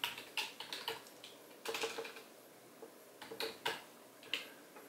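Typing on a computer keyboard at a PC, with light, scattered key taps in small irregular clusters and pauses, close and fairly quiet, with no voices.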